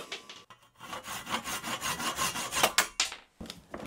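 Handsaw cutting protruding wooden dowels flush on a table frame, close and loud, a brisk series of rasping back-and-forth strokes with a short pause near the start and another near the end.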